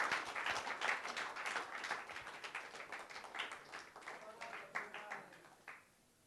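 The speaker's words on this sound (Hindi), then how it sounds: "जोरदार तालियां बजते रहनी चाहिए।" Audience applause at a film teaser and trailer launch event, dense clapping that swells and gradually thins over several seconds, with faint voices in the hall.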